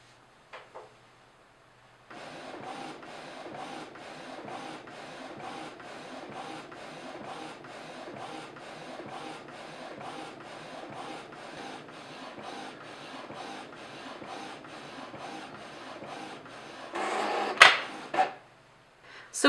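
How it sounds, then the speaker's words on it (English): An inkjet printer runs through an edible icing sheet loaded in the rear tray, with a long stretch of steady mechanical whirring and rhythmic print-head passes, then louder clunks and feed sounds near the end, with no speech. "I've loaded the icing sheet in the rear tray and I'm just going to press print on my printer"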